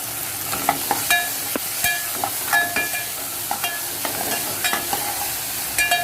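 Onion and tomato sauté in a masala paste of salt, turmeric, ginger, garlic, mint and coriander for a paneer pulao, heard as a low sizzle under repeated clinking spatula stirs against the pan, close and without talk.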